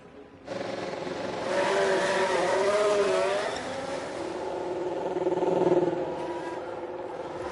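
F1 race car engines in F1 Manager 23, a high, whining pitch that rises and falls as cars pass along the circuit, fairly distant and steady, with no voices.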